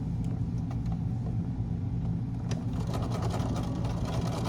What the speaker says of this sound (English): Now I'm going to sew the other side.